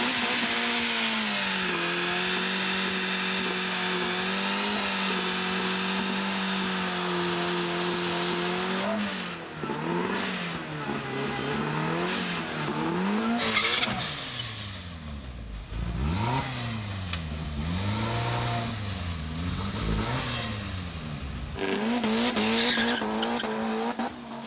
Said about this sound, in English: The MR2 gets off to a clean start, but it needs the extra run to pull off a competitive ET.